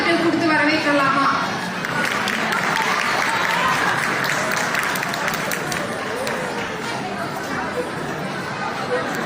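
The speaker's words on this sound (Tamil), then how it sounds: "இவங்களை ஒரு கைத்தட்டல் கொடுத்து வரவேற்கலாமா?" An audience at a Pongal celebration gives sustained clapping to welcome Bharatanatyam dancers, with crowd chatter mixed in, loudest at the start and then holding steady.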